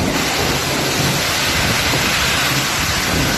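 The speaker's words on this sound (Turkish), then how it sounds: "Çamur yağıyor kızım, bak çamur yağıyor" Mud rains down during a storm in Istanbul, a dense, loud, unbroken roar of heavy downpour with no talk over it.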